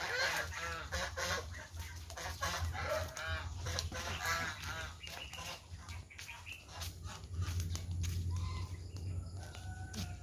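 A noisy flock of ducks and geese honk and quack continuously, calls overlapping densely over a low steady rumble.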